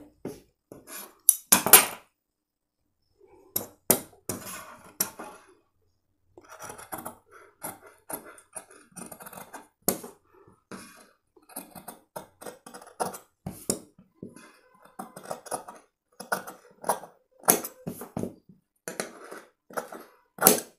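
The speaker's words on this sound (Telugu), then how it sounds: "మనం ఈ నెక్ని మనం కట్ చేద్దామండి" Scissors snip through blouse fabric to cut a back neck design, giving a close, dry series of crisp cuts in irregular bursts separated by short silent pauses.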